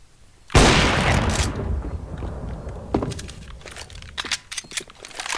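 Loud gunfire bursts from Counter-Strike, a heavy blast followed by a scattering of sharper shots and thuds.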